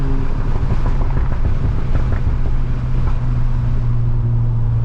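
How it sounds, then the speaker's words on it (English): Wind roars through the open windows of a moving Stage 2 tuned Golf R, a steady loud broadband rush with engine drone beneath, constant throughout with no voices. "Apologize for the wind."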